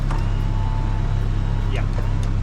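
Engine of a 1989 Toyota van idles and cranks, a low steady rumble with a pulsing throb dominating throughout, with faint higher clicks from power window switches on top.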